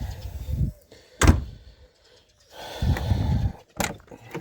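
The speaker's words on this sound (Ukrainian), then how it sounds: "Двері всі відчиняються, зачиняються." Doors on a used gold Audi diesel are opened and shut several times, with sharp thumps of closing doors and bursts of handling noise between them, close by and loud.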